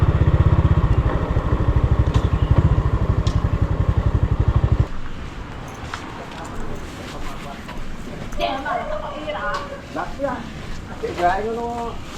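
A motorcycle engine idles with a loud, rapid pulsing beat close by, then cuts away to quieter road noise as voices talk over it.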